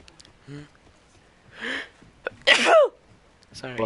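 A single loud, sharp sneeze bursts out close to the microphone during a casual Apex Legends session, preceded by a short inhale and followed by brief quiet talk.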